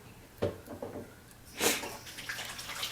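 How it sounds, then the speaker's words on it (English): Hands rinsed under a running kitchen tap during vegan meatball prep, with a soft, close splashing wash broken by a few louder gushes. "I'm going to wash my hands so I can help you."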